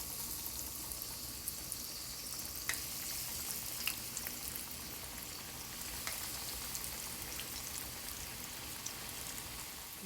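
Coated potato sticks deep-fry in hot oil with a steady, dense sizzle and fine crackling, broken by occasional sharper pops, continuous and moderately loud with no talking.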